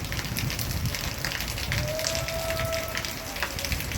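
Dense, continuous hiss of heavy rainfall in Nellore city, steady and loud throughout, with a faint passing tonal whine in the middle.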